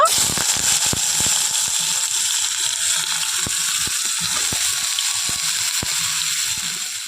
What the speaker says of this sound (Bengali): কড়াইতে এখন তেল দিয়ে দেবো এখন আমি বেগুনগুলো তুলে দেব